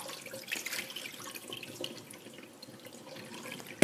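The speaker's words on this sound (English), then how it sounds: "So the first 2 times, you just quickly rinse it," Rice grains rinsed under a cold running tap in a sink, a steady close splashing and trickling of water with a brief louder clatter at the very end.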